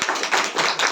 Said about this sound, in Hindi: बीच बीच में भले ताली बजाते ना